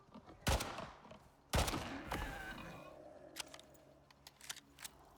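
Gunfire in the Styx video game: a couple of loud, sharp shots about a second apart, followed by fainter clicks and small bursts.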